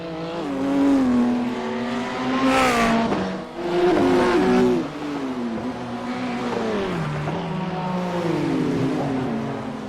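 GT3 race cars, a Ferrari among them, roar down the straight at Mount Panorama. Loud engines rise and fall in pitch through gear changes as the cars pass close by, with no talk over them.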